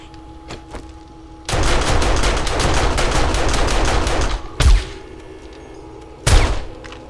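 An automated turret in the video game 7 Days to Die fires a loud, dense burst of rapid shots lasting about three seconds. Two separate single blasts follow.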